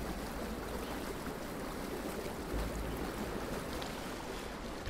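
Steady rushing water flows through the ruins in the video game Horizon Forbidden West, a dense, even wash of sound that fills the whole stretch without pause or speech.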